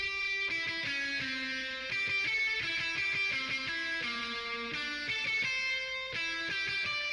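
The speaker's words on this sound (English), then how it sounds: "Now see, I have these settings set so that it's like a clean" Guitar run through an Amplitube amp plugin set to a clean yet distorted tone, playing a steady, busy melodic line with sustained harmonics, close and even in level with no talking.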